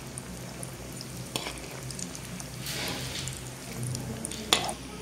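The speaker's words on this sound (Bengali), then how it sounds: "দিয়ে ভালো করে ভেজে নেবো লাল করে।" Egg chops frying in oil over medium heat give a soft, steady sizzle with faint bubbling, broken by a few light pops and clinks, all fairly quiet and close.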